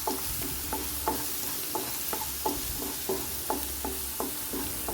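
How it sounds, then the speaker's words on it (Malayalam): Cooked beans with a ground spice mix stirred in a frying pan for Kerala vanpayar mezhukkupuratti, heard as a continuous sizzle with rhythmic spoon scrapes about twice a second, close and without talk. "ഒന്ന് നന്നായിട്ട് ഇളക്കി യോജിപ്പിച്ച് കൊടുക്കാം."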